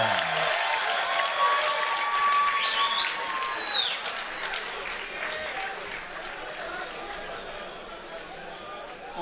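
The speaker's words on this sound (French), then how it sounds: "On constate que la foule est contente de voir Batir ce soir, qui est bien applaudi" Arena crowd applauding boxer Batyr Jukembaev before his WBA title fight against a Mexican opponent, steady clapping and cheers that fade slightly, with chatter mixed in.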